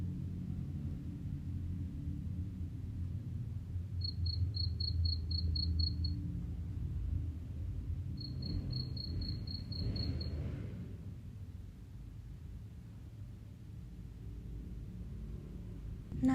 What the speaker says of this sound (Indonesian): Saya mulai dengan menggunakan suara jangkrik.